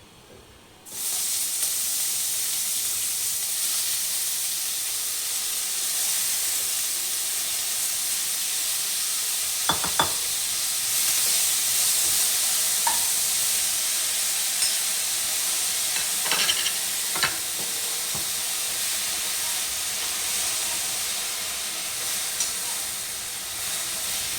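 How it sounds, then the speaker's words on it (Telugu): Amaranth leaves and mint drop into hot oil tempering with a sudden loud burst of sizzle. A steady hiss follows, broken by a few knocks of a stirring spoon, close and with no talk. "ఇప్పుడు ఇందులో మనం తోటకూర పుదీనా కూడా వేసేసుకుందాం."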